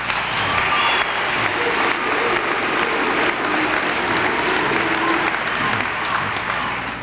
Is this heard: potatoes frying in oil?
no